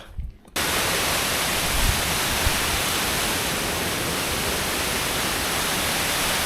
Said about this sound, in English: I found a waterfall.